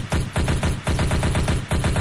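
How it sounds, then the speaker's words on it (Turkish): Gunfire aimed at a security camera in a jewelry store in GTA 5: rapid, loud, close shots fired in quick repeated bursts with brief gaps between them. "o kameraya doğru birkaç el ateş et"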